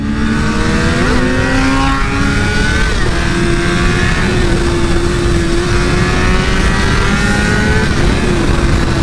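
A Honda CBR1000 Repsol sport motorcycle rides at speed, its engine droning loud and steady with rising and shifting pitch under heavy wind noise.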